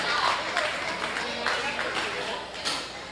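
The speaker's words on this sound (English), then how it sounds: "Let's give Cooper Nelson a nice round of applause." Audience applause at a county fair swine show, a brief patter of scattered clapping from a modest crowd, heard under an announcer's voice over the PA.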